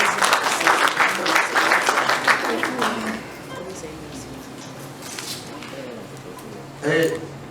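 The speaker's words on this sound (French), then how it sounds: "Je pense qu'on peut applaudir également la l'UNASI." Audience applause at a Lonaci Foundation award launch event, dense clapping for about three seconds that drops off into quieter room sound, with a short burst of noise near the end.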